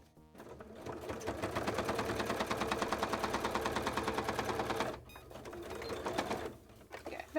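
A sewing machine stitches cosplay fabric flat in steady rapid bursts, running continuously for about five seconds, pausing briefly, then resuming in shorter runs, close and fairly loud.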